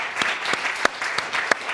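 A courtroom television show audience applauds, a brief patchy clapping from a small crowd with a few sharper individual claps standing out, close and without talk.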